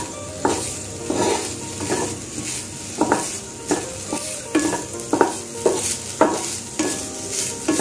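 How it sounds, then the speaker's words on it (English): Chana dal being dry-roasted in a non-stick kadai, a spoon scraping and stirring in regular strokes, each stroke a short scratchy swish over a faint background hiss, close by with no voices. "I'm just putting it in the kadai, non-stick kadai. Just for dry roasting."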